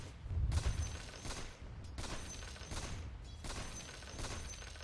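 Sniper hero's rifle fire in the video game Dota 2: several sharp shots land at a steady spacing of roughly one per second, close and loud, with game effects clattering beneath them.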